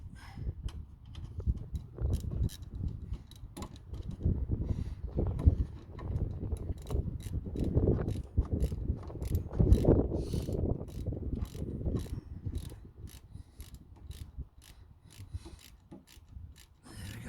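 A ratchet clicks in repeated rapid bursts while tightening bolts on the rear brakes of a 2005 MK5 Golf GTI, with rubbing and metallic handling noises between strokes, close and moderately loud.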